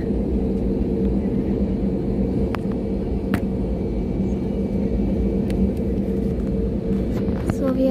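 A passenger airplane speeding down the runway at takeoff, heard from inside the cabin as a steady, loud, broad rumble with engine roar that holds for the whole stretch.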